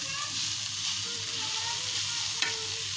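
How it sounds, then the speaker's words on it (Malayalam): Masala mixture for dosa frying in a pan while a spatula stirs it, a steady close sizzle with occasional scraping and one sharp clack near the end, no talking. "ചട്ടുകം വാങ്ങിച്ച് ഇളക്കിക്കൊണ്ടിരിക്കുക"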